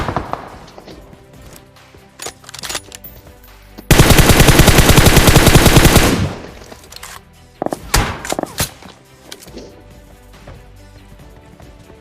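Gunfire from a shooting video game rattles out in a long, loud, continuous automatic burst lasting about two seconds, framed by scattered single shots and softer game sounds, with light talk in the background.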